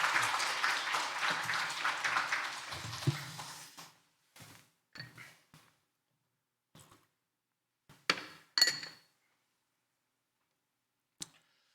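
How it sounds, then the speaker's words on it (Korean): A church congregation at a Sunday worship service applauds a visiting missionary in a dense burst of clapping that fades out after about four seconds. A few scattered claps and clicks follow in a quiet room. "우리 박수로 뜨거운 환영하겠습니다"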